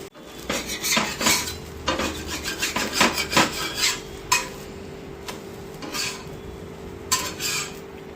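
A dosa made from parboiled-rice batter is flipped on a hot pan, with a run of metallic scrapes and clinks of a spatula against the pan in uneven bursts, close and fairly loud, with no voices.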